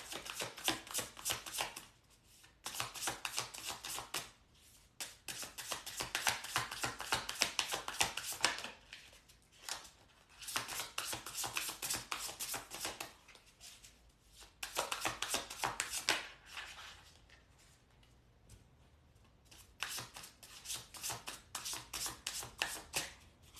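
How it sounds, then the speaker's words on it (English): Tarot cards being shuffled by hand in repeated bursts of crisp riffling and slapping, each run lasting a few seconds and separated by short pauses, close and fairly quiet with no talking. "I'm struggling to shuffle these today."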